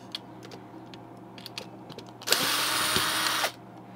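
Screws being backed out of the shipping bumpers on a Hampton Bay 36-inch ceiling fan: a single loud, steady motorized whir lasting about a second, close up, over faint handling clicks and a quiet room.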